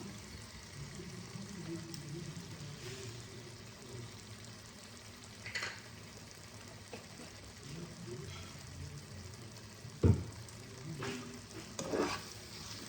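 Cauliflower frying in ghee for a Bengali badhakopi ghonto, a steady close sizzle broken by stirring scrapes, with a sharp clatter around ten seconds and another burst of stirring near the end.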